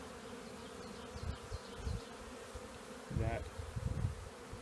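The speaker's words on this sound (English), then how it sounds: "3 pounds of bees maybe there, 4 pounds of bees, pretty good sized swarm" A good-sized honey bee swarm of three to four pounds buzzes steadily nearby in a dense, continuous drone, with louder low thumps and handling bursts around it and a brief spoken word.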